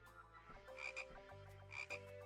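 Two croaks from a frog in a video game, each a short rough burst about a second apart, laid over a low humming background and faint overall.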